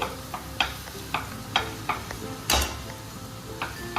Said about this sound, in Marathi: आता हा मसाला बटाट्यामध्ये एकजीव करून घेते